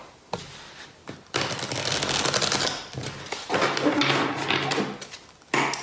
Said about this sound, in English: now let's go right into shuffling